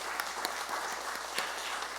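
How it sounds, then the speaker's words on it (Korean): Church congregation applauding in worship, a soft, somewhat distant patter of many hands clapping steadily with no voices. "우리 하나님께 감사와 영광의 박수 올려드리겠습니다"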